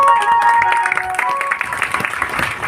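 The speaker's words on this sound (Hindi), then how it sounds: "अब ताली बजाने में भी कंजूसी, ये क्या है?" Scattered, fairly sparse handclaps from a seated audience at a village satsang, close and steady over sustained tonal sound, with a few sharper claps standing out.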